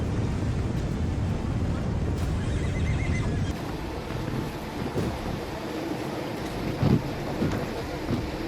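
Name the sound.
thousands of horses neighing at the Celestial Horse Festival, Xinjiang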